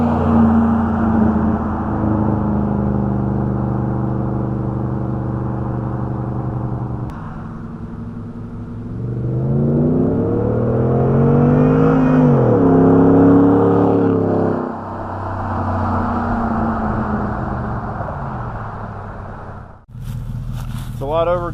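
A 2011–2014 Ford F-150 with a 5.0L V8 and an AirAid Jr. intake idles with a steady rumble, then revs at wide open throttle with a rising and falling engine note before settling back down.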